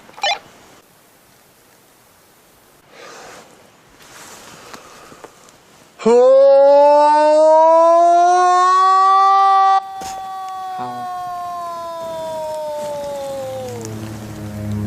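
A person lets out a long, loud, sustained moaning howl imitating a large creature, rising then slowly falling and fading, after quiet outdoor ambience.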